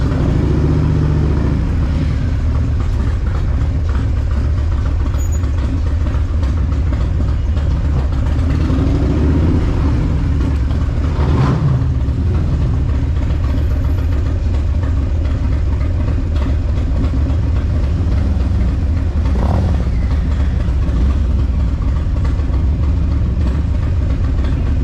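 A chopper motorcycle's engine rumbles steadily and close throughout a ride, a continuous low drone with slight swells.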